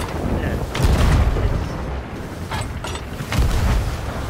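Ship cannons firing in the pirate video game Sea of Thieves, several heavy booming blasts in an irregular rhythm over a constant rumbling bed of wind and sea noise, fairly loud and close.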